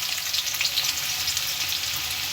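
Chopped onions frying in hot oil with popped mustard seeds for a village-style green gram, egg and chicken palya, a dense close sizzle crackling steadily throughout.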